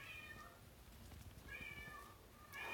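A cat meows softly three times, close by and spaced about a second apart, in a quiet room with faint background noise and no one speaking.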